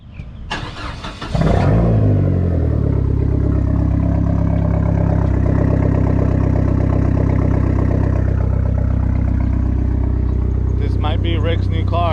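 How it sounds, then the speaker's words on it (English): A Dodge Neon engine with an aftermarket exhaust starts and settles into a loud, rumbling idle with a deep exhaust tone, running steadily throughout while someone talks over it. "I always like the way neons sound with an exhaust."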